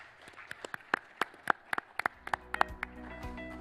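Scattered audience applause follows a panel discussion on financing sustainable island growth, with sharp individual claps spread unevenly and loud, then fading toward a quieter hall.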